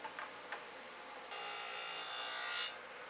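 A table saw blade, lowered to 3/16 inch, cuts a dado across a wooden center divider for a small cabinet. Two brief scrapes come first, then a steady, loud, bright cutting whine runs for more than a second before stopping abruptly.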